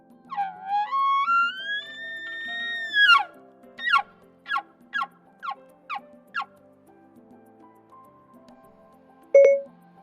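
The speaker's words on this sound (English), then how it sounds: "Here's a moose." Moose call played back by Siri: a long rising, wavering nasal bellow followed by a series of six short descending grunting calls at an even pace, then a brief electronic tone at the end.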